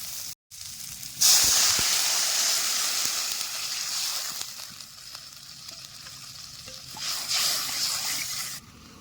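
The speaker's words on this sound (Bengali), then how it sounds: "তরকারিতে জল দিয়ে বেশ ভালো করে জাল দিয়ে নিছি" Water poured onto hot fried masala in a village kitchen pan for a fish curry, bursting into a loud, close steam hiss that lingers and fades, with a second surge of hissing near the end.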